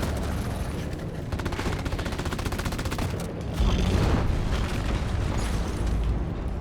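Sustained rapid-fire gunfire from a weapon being emptied in a video game, a dense, loud burst of rattling shots followed by heavier booming blasts, continuous and close with no talk.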